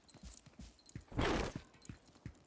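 Horse hooves clip-clop at a steady walking rhythm in a video game, faint and close, with a brief louder rush of movement in the middle and no speech.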